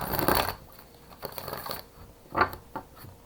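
Tarot cards being shuffled in a few quick riffled bursts, a longer flurry at the start then shorter crisp shuffles, close and fairly quiet with no talking.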